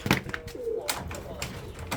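Kit pigeons coo in a low, rolling call up close, with a few brief bird sounds and light background noise around it.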